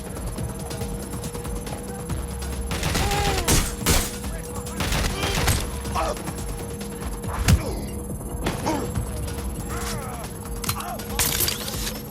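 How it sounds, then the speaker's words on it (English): Watch Dogs Legion combat fills the air with rapid gunfire, bursts and single shots cracking repeatedly over a steady background hum, with a few sharper impacts standing out. "Getting shot at here."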